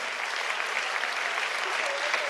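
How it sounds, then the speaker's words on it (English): A large audience at a Times of India event breaks into loud, sustained applause for an honoree, a dense and continuous wash of clapping from many hands. "Let's give her a big round of applause."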